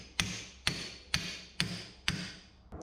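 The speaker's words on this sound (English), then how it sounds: "if we hammer that down in there to the top spout right there" Hammering sheet metal on a 1968 IH Travelall: five evenly spaced, ringing metallic blows about half a second apart, each with a short bright decay, moderately close, alone without talk.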